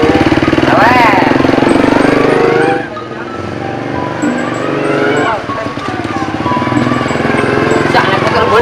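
A Honda Astrea motorcycle engine runs steadily and loudly throughout, a continuous rough drone with people talking over it.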